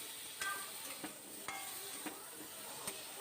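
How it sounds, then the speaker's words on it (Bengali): Potatoes fry in a kadai over a lowered gas flame, a faint steady sizzle broken by a few soft scrapes of a spatula stirring them, quiet and close with no voices. "আমি গ্যাস কমিয়ে আলুটাকে 1 মিনিটের মতন ভেজে নিয়েছি"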